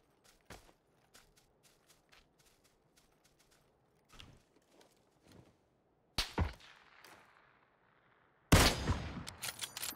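Gunfire in a first-person shooter, sharp isolated shots spaced across the stretch, then two louder bursts of rapid fire with trailing echoes near the end.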